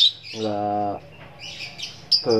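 A lovebird being prepared for field training gives brief, high, thin chirps, scattered at the start and end, while someone speaks nearby in between.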